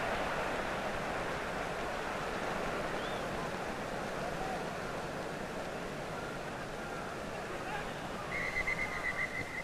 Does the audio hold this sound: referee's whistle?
yes